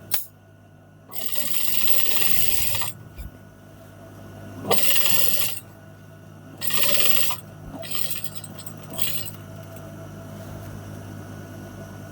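Sewing machine stitching the fly placket of trousers near the zipper, heard in three separate bursts of whirring run with quiet pauses between them, close and fairly loud.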